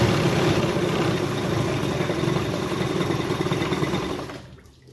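A 2000 Johnson 50 HP outboard engine idles steadily at close range, its fuel line disconnected so it runs out of gas, holding an even rumble until the sound drops away near the end.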